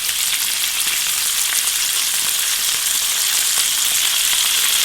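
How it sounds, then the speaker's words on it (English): Bacon fries in olive oil in a pan, giving a loud, close, unbroken sizzle and crackle that holds steady throughout. "While that bacon is cooking up, I'm going to get my spatula, give it a little mix."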